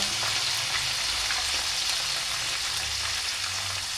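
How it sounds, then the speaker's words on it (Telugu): Turmeric and asafoetida fry in hot oil for a broad bean pickle. The close, even sizzle and crackle holds steady throughout with no talking. "ఒక 2 నిమిషాలు అయితే ఇది ఫ్రై అవ్వనిద్దాం."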